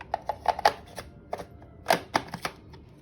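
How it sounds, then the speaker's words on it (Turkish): Manual pull-cord chopper working onions, a series of sharp clattering whirs in irregular bursts, close and clear with no talk. "soğanları böyle çekme aletine koydum. Bununla soğanları çekeceğim."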